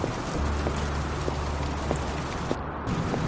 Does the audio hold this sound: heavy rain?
yes